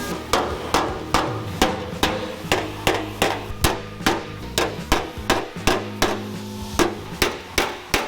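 A hammer strikes a car's metal panel in a steady rhythm of sharp, ringing blows, about twelve close, evenly spaced hits knocking out lumps, with no talking.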